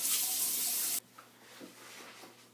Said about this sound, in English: I still have the gel in there, so I'll rinse that out